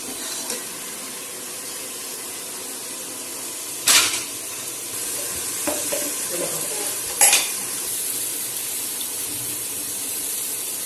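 Koftas frying in hot oil in a pan, with a continuous moderate sizzle broken by a couple of sharp utensil clinks and stirring scrapes.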